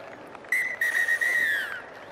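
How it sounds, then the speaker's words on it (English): The referee blows the final whistle at a Canterbury Bulls versus Waikato rugby match: a single sustained shrill blast lasting just over a second, broken by brief flutters, over faint crowd ambience. "And there's the final whistle."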